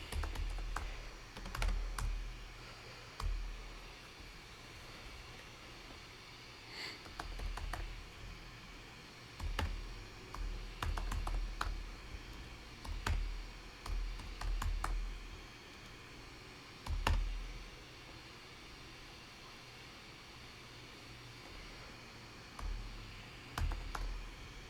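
Python code is typed on a computer keyboard, a quiet, close run of irregular key clicks in short flurries and pauses, with no voices.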